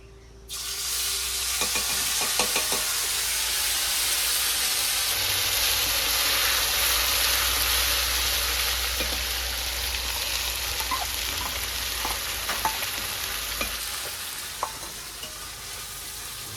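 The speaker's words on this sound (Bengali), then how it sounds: "এটা হালকা একটু কষাবো তারপরে জল দিয়ে দেবো" Mustard, green chilli and cumin paste fries in a pan with a loud, steady, close sizzle that holds throughout, broken by occasional crackles and faint stirring taps.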